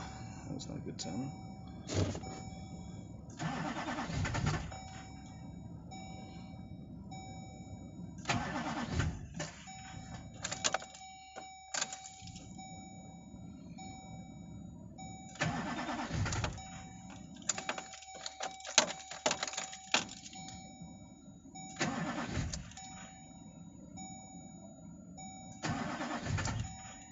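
Close, loud cranking from a GMC work truck on a cold start, coming in several separate bursts with the engine almost catching, while people talk in between.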